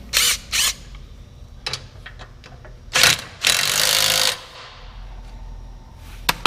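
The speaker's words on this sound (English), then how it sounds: "And I gotta run and get my wrench. So we'll just go ahead and tighten this side up." A wrench tightens the lawn striper bolt on a 2014 John Deere 930M 60-inch mower deck. There are sharp metallic clanks and scraping bursts with gaps between them, then a longer grinding stretch, all close and fairly loud.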